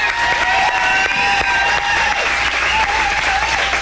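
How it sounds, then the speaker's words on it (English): A crowd gives the band dense, sustained applause with some cheering, loud and steady throughout with no speech over it. "Give them a big round of applause."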